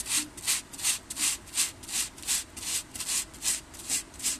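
Homemade circuit board being scrubbed to clear excess glue and leftover solder paste, a close, steady back-and-forth rasping with about a dozen evenly spaced strokes, each swelling and fading, with no talk.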